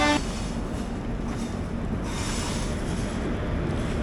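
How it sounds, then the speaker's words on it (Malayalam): Seshadri Express train pulling in on a single-track line, a steady, loud rumbling roar of wheels and carriages with no voices. "ശേഷാദ്രി എക്സ്പ്രസ് ജസ്റ്റ് കയറി വരുന്നു."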